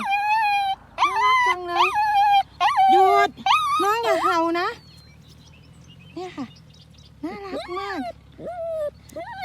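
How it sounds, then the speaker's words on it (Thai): A small dog yips and whines repeatedly at close range beside a large flock of sheep, its high, tonal cries arriving in bursts while someone talks over them. "หยุดอย่าเห่า"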